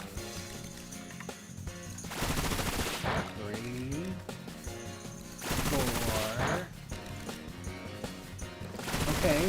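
Bullet Seed move in the video game Pokemon Violet, heard as rapid bursts of rattling, gunfire-like pops that come in several loud volleys between quieter game music and effects.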